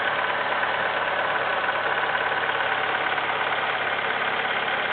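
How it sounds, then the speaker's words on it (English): A 2005 Pontiac Sunfire engine idles steadily just after an oil change, a constant close mechanical hum and rumble with no variation and no voices. "the vehicle is running"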